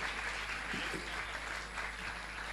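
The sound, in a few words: audience applause at a religious discourse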